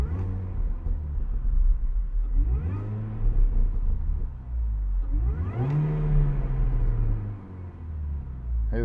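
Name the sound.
supercharged MINI Cooper S R53 engine revving, supercharger whine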